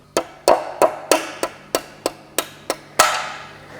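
Knocks on an old original BMW rubber seal: ten sharp, hollow taps spaced about a third of a second apart, close and fairly loud, each with a short decay and the last one ringing longer.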